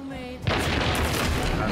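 A single loud shotgun blast from the video game Hunt: Showdown goes off suddenly after a quiet moment with a faint tone, then a heavy booming rumble lingers and slowly decays.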